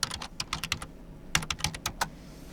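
Fingers typing on a computer keyboard at a Linux terminal: two brisk runs of close, crisp keystrokes separated by a brief pause, with no one speaking.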